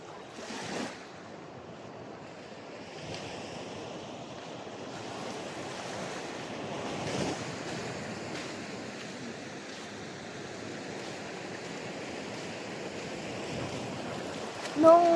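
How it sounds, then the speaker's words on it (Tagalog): Steady wash of ocean surf on a beach in Batangas, Philippines, a continuous broad rushing roar with gentle swells and some wind, constant and moderately loud throughout. "Yung alon na lang. Itong alon na to."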